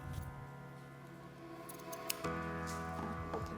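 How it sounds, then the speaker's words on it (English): Scissors snip the loose ends of a tied knot on a handmade wedding invitation, a few faint, sharp close clicks scattered over quiet background hum. "Then we'll cut the ends to the length that we like."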